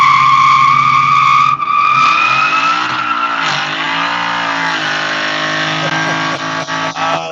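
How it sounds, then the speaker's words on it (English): A Chevy truck doing a burnout, its engine revving hard and steady while the tires squeal continuously, loud and close, with brief dips near the end. "that's how you do a burnout in a Chevy truck"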